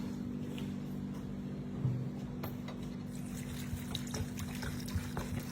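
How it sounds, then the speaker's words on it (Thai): Cold water trickles and splashes as it is poured onto shredded cabbage for three-flavor pickles, a steady close pour with a few louder spatters over a low background hum and no talking. "แล้วเราก็จะเทน้ำเทน้ำเย็นเข้าไปนะคะ"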